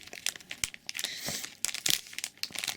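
Yu-Gi-Oh token cards being pulled from their packaging, with repeated close crinkling and tearing of plastic wrap in quick bursts.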